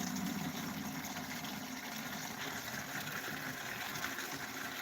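Water pours steadily into a bucket outdoors at a winter homestead, a continuous rushing gush with a low, engine-like hum underneath, moderately quiet and unbroken throughout.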